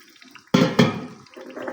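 Water splashes and pours into a pan in a sudden burst, gurgling briefly before thinning to a lighter trickle, close by and with no voices.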